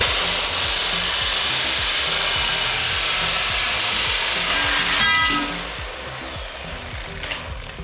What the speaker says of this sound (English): So let's cut the tubing.